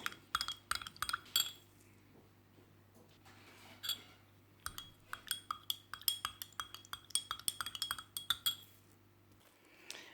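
A spoon stirs homemade vitamin C serum with essential oil, glycerin and aloe vera in a glass container, making quiet, close glassy clinks in quick irregular bursts with short pauses, over a faint steady hum.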